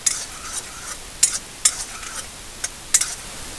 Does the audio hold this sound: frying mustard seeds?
yes